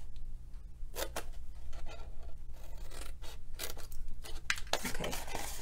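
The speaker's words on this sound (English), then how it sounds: "I'm going to cut the bottom square and the top" Paper rectangles being cut away with scissors for a craft candy bowl, several separate crisp snips and rustles of paper against a steady background hum, close and moderately quiet.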